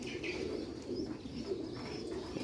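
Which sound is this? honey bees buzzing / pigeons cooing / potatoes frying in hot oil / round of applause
pigeons cooing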